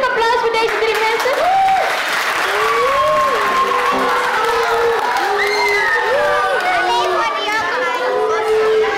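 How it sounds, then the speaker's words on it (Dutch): Loud, sustained applause from a church congregation, many hands clapping together with cheering and children's voices mixed in, lasting the whole stretch. "mag een hartelijk applaus voor deze drie mensen."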